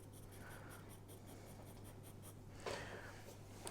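Graphite pencils of mixed grades, 2H, 4H, HB and 2B, shading on paper with steady even pressure, a soft continuous scratchy rustle close up with a slightly stronger brush of strokes near the end.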